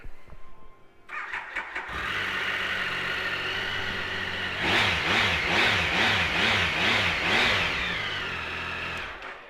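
A 2010 Triumph Tiger 1050 motorcycle, engine a little cold, cranks with a brief starter whir, catches and settles into a steady idle, then gets a series of rhythmic light throttle blips before easing back to idle, close and clear.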